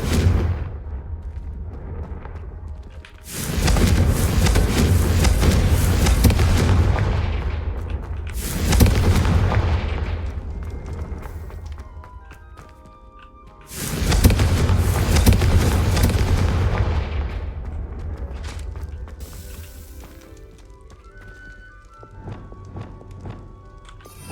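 Confringo blasting-spell explosions in the Hogwarts Legacy video game: three heavy, loud booming blasts, each followed by a long rumbling decay, with no voices.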